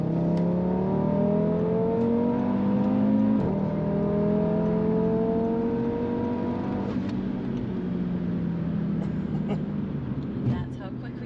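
A 600+ HP Audi RS3 accelerates hard, its engine note climbing steadily through several rising sweeps, loud and close from inside the cabin, with voices talking over it.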